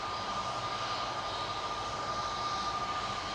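An easyJet Airbus airliner taxis into position at Manchester Airport, its jet engines giving a steady, distant whining roar with a thin sustained tone, continuous and unchanging at moderate level.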